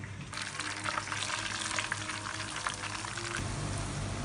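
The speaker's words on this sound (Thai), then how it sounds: "แล้วเราก็เอากระเทียมใส่กระทะ" Garlic sizzles and crackles in hot oil over low heat, a steady close frying hiss with a stirring scrape partway through.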